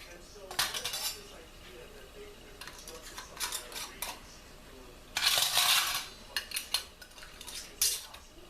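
Glass canning jars with metal flat lids and rings clink and knock as they are handled and set down for hot pepper jelly, a series of sharp close chinks in bursts with brief quiet gaps.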